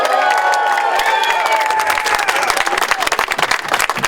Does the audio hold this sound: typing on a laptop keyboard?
no